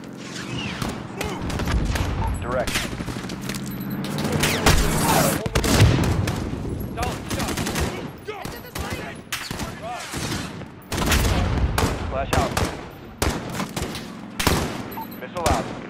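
Dense gunfire and explosions from the video game Call of Duty: Modern Warfare, with bursts of rapid shots and heavy booms repeating loudly throughout, and game radio chatter mixed in.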